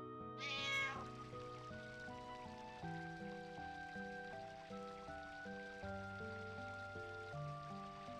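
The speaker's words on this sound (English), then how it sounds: "Is that a cat?" A cat in the video game Final Fantasy 9 gives one short, high meow near the start, then soft, steady game music plays quietly with no talking.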